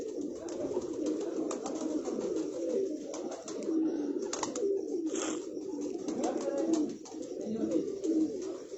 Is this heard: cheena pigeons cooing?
yes